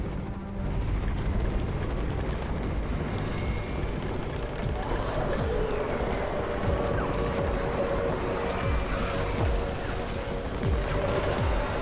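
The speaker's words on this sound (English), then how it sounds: "It's the Raven's chopper! We have backup!" A helicopter's steady rotor roar in the video game Undawn fills the scene, dense and continuous, with scattered sharp impacts and bangs layered over a low rumble.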